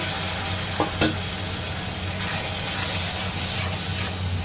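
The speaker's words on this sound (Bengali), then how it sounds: "তা আমি একটুখানি এই মশলা ধোয়া বাটির জলটা দিয়ে দিচ্ছি।" Spice-rinse water hits frying masala for a Bengali fish curry, giving a continuous dense sizzle and hiss with a couple of faint utensil clinks.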